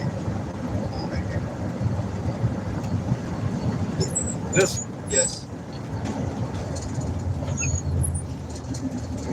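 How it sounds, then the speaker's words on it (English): A Chippewa train rumbles steadily close by, a continuous low mechanical drone with a couple of brief sharper clanks, while people talk over it. "Chippewa train. beautiful."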